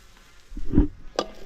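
Brief sizzling and scraping in a pan, a couple of short stirring bursts, close and moderately loud.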